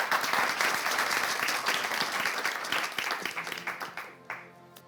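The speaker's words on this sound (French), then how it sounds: "Vous pouvez l'applaudir." An audience at a live contest show applauds a contestant, thick clapping that gradually thins into a few separate, scattered claps before stopping.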